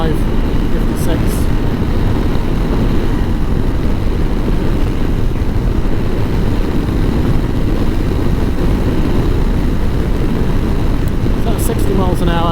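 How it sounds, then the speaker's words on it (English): A motorcycle on a trail ride accelerates to around 60 mph, heard from inside the helmet as loud, steady roaring wind noise layered over a droning engine. "get the bike up to speed"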